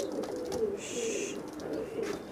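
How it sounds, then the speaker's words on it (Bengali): Several exceptional pigeons coo softly and steadily close by, a low, continuous bubbling murmur with a brief higher rustle midway, and no talking. "এই 4টা কবুতর হচ্ছে আমার একটু এক্সেপশনাল কবুতর"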